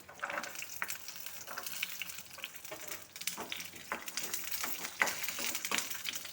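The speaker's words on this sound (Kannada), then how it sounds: "ಮೊದಲಿಗೆ ಬೆಳ್ಳುಳ್ಳಿ, ಶುಂಠಿ ಹಾಕ್ತಾಯಿದ್ದೀನಿ" Garlic and ginger fry in hot oil in a pan with a steady faint sizzle and crackle, punctuated by occasional stirring scrapes and clinks, heard alone without speech.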